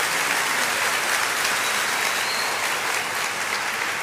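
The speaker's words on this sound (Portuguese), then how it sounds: "Será que você pode aplaudir mais uma vez ao Senhor pela vida dele?" Steady, dense applause from a church congregation fills the space evenly and loudly, a continuous wash of many hands clapping with no voices standing out.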